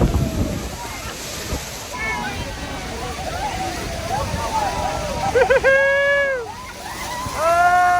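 A heavy rush of falling water and spray at Niagara Falls drenching boat passengers, with wind buffeting the microphone while several people whoop and shout excitedly.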